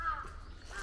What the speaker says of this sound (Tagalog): Daming uwak dito.